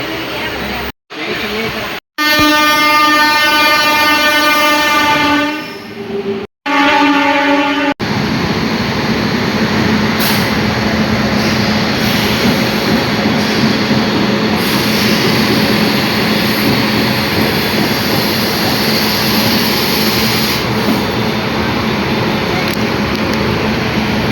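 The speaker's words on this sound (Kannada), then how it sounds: "ನಮ್ಮ ಟ್ರೈನ್ ಅರೈವಲ್ ಆಯ್ತು ರೀ ಕಲಬುರಗಿಗೆ 4:30ಕ್ಕೆ." Music plays briefly, then a loud, steady rumble of a sleeper train arriving at Kalaburagi takes over and continues with a low mechanical roar and occasional clanks.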